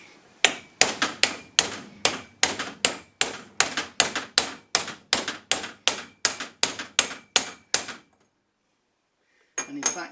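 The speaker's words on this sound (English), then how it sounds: "if you're bashing it like I was, you can actually feel the point at which it comes up against the step" A wheel bearing race hammered into an MGB hub, about twenty sharp metallic blows in an even rhythm, close and loud, then a pause and a faint knock.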